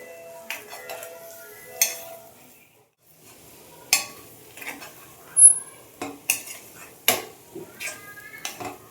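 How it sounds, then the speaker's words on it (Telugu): Mixed herbs and half a spoon of chilli powder are stirred in an iron kadai, with sharp clinks and scrapes of a spoon against the metal at irregular moments over a faint background. "మిక్స్డ్ హర్బ్స్ అయితే ఒక 1/2 స్పూను కారం అయితే వేసుకొని ఫ్రై చేసేస్తూ ఉన్నాను"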